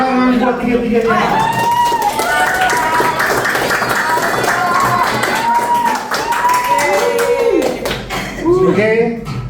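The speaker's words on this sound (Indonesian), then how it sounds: "Kita kasih tepuk tangan buat tiga-tiganya." Audience applause for three presenters at a classroom session on creative economy development, dense steady clapping close by lasting several seconds, with voices talking over it.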